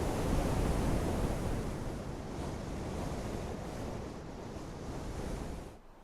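Wind blows hard outdoors near the Nome River mouth in Alaska, a steady loud roaring rush buffeting the microphone that eases off sharply at the very end, with no voices.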